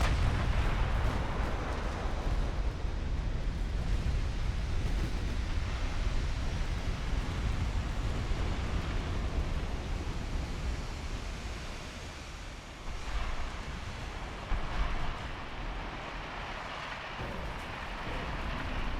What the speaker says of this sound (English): We're gonna turn you guys around to fire off the next salvo of torpedoes.